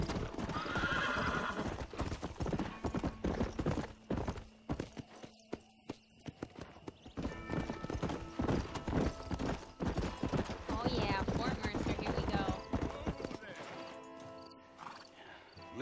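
Hooves clip-clop steadily as a horse is ridden in Red Dead Redemption, with a few whinnies and snorts, game voices talking over the rhythmic trotting throughout.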